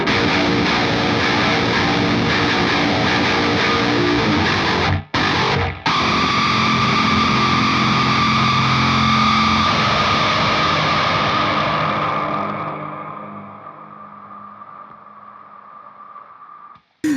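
A dense, distorted electric guitar wall of noise from a noise pedal roars steadily with heavy reverb during a song's breakdown, briefly cutting out once, then slowly fading into a lingering ringing tone.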